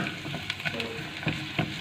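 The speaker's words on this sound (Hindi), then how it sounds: "बिल्कुल लो फ्लेम से थोड़ा सा मतलब मीडियम लो फ्लेम में आपने इसकी फ्राई करनी है।" Chicken pieces fry in a pan over a medium-low flame for dry chilli chicken, a soft, steady sizzle broken by a few light clicks from stirring.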